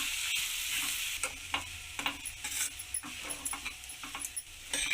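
A spatula stirs soaked poha in a hot pan, giving a bright hiss of frying with repeated scraping strokes close by and no talk.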